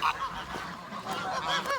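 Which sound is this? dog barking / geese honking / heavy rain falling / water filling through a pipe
geese honking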